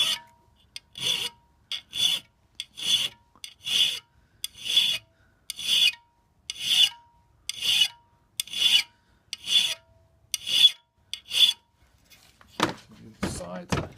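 A flat file sharpens an ice axe with about a dozen evenly spaced rasping strokes, crisp and close, each a short scrape followed by a pause, then a few duller knocks at the end.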